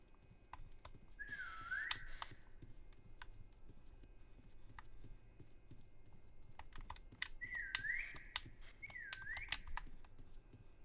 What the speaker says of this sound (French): Arrêtez de siffler, bon sang.